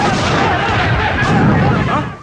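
A bomb explosion at a hospital in a Telugu action film: a loud, rumbling blast roar that fills the whole moment and fades slightly at the end.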